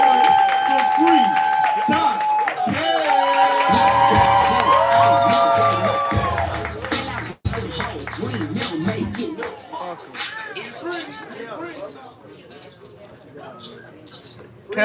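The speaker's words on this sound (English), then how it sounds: "We're clapping, we're building energy, making all the noise for free." Crowd at a poetry slam clapping and cheering to build energy, a loud roar of whoops and shouts with music that fades into scattered claps and chatter.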